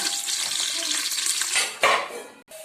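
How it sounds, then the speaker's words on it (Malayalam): Steady hissing sizzle of cashews and raisins frying in ghee, with a few stirring scrapes and clinks toward the end; no talking. "കശുവണ്ടി മുന്തിരി വേണം. അത് നമുക്ക് ഈ നെയ്ക്കകത്ത് വാർത്തെടുക്കാം"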